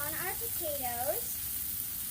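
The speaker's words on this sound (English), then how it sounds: "So when our ribeyes are searing" Ribeye steaks sear on a Blackstone griddle with mushrooms and butter, giving a steady close hiss and crackle throughout while a voice speaks over it.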